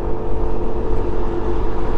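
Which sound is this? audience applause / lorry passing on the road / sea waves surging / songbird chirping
lorry passing on the road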